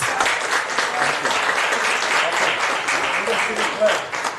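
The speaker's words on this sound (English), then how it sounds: "I want to give all of them that came up here a round of applause." Audience at a Baldwin Park city council meeting applauds a group of women survivors, a steady wash of many hands clapping in a hall, with some voices mixed in.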